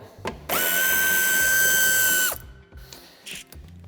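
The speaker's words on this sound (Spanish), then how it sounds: "quitamos el tornillo que sujeta el paragolpes de cabeza de 8" A powered ratchet spins out the 8 mm-head screw holding the bumper of a BMW X1 F during a tow hitch fitting. It gives one steady, close, whining buzz of about two seconds, with a few faint clicks around it.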